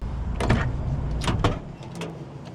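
Two bursts of an electric motor whirring as the power windows of a 1987 Chevrolet Monte Carlo SS move, with a short click-like break between them, near and fairly clear.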